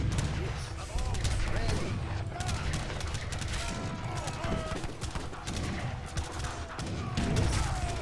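Cannon and gunfire crackle in dense, continuous volleys from a battle in Age of Empires III, with dull thumps mixed in under players talking.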